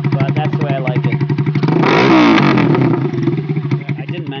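Custom chopper motorcycle with a loud exhaust starting up and revving, a steady rumbling idle that swells into a strong rev around the middle before settling back, close and loud with no talk.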